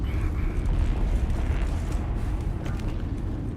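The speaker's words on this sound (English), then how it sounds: "That was an awesome grenade throw." A grenade blast in the game Dune Awakening, a deep sustained roar and rumbling debris that stays loud and heavy, slowly settling without distinct separate booms.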